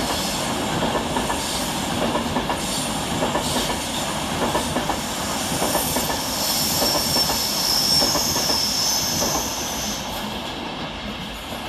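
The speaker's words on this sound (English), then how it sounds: "Next to pass through the station is 390157, working 1H07 from London Euston to Manchester Piccadilly." Train 390157, a London Euston to Manchester Piccadilly service, runs through Cheadle Hulme station with a loud, close rushing roar, clattering wheels and a high squeal from the rails, continuous for the whole stretch with no voices.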